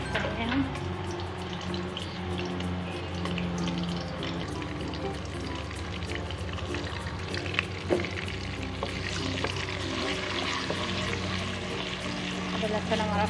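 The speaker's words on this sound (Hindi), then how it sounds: "अदरक लहसुन हमारा फ्राई हो रहा है।" Ginger and garlic fry in hot oil for a beef karahi, a steady close sizzle and crackle with occasional stirring scrapes of a utensil in the pan.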